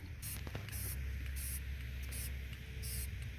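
Short hissing bursts of a spray paint can, used for RV maintenance, repeat in quick pulses over a steady background hum, fairly faint.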